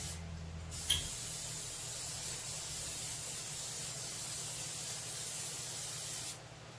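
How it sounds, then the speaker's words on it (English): Cooking oil sprays in one long continuous hiss over Cornish hens and vegetables in a cast iron Dutch oven at a campfire, close and steady for several seconds before cutting off. "then you can go ahead and use your spray oil"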